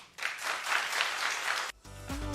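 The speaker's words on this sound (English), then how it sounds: "Clap if you understand what I'm saying." A studio audience claps in a short, lively burst lasting about a second and a half, which stops abruptly before a voice starts talking.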